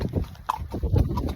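A ridden horse walks with soft, rhythmic clip-clop hoofbeats close by, mixed with rustling and light ambient noise.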